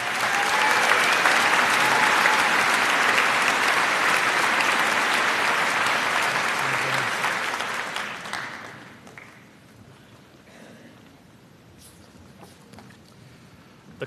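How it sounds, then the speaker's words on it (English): Sustained applause from a large graduation ceremony audience at a high school commencement, a dense steady clapping that fills the hall for about eight seconds before fading out into quiet room noise. "I would ask you to join me in honoring him with a round of applause"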